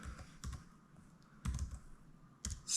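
Quiet clicking of a computer keyboard as a web address is typed, short clusters of keystrokes separated by brief pauses, close and faint.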